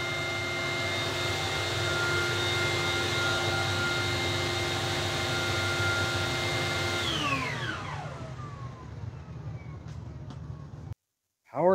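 A Hyla EST water canister vacuum cleaner's power nozzle runs unloaded with a steady high whine, then spins down in a falling glide before the sound cuts out and a brief new noise starts.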